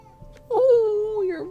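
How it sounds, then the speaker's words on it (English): A single drawn-out, plaintive meow that wavers and falls at the end, close and clear against a quiet background. "your meow is so sad"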